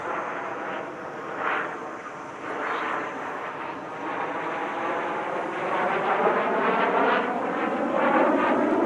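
MB-339 jet aircraft at the Dubai Airshow give a steady, loud roar that swells and shifts in pitch as they pass, with no voices over it.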